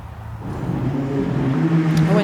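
A Mini Cooper 5-door drives past at the Goodwood Festival of Speed, its engine note swelling steadily louder and nearer over a couple of seconds, with crowd and commentary voices mixed underneath.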